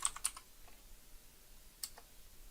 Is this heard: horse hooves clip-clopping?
no